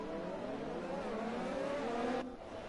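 Race cars setting off from the lights at a race in Canada, a massed engine roar with rising revs as the field accelerates, then a sudden drop in level near the end.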